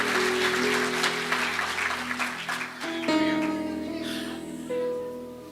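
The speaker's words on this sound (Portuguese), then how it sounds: "Se você pode, você aplaude ele." Congregation applauding during a church service, a steady wash of clapping under sustained organ or keyboard chords that shift midway, with a voice faintly over it.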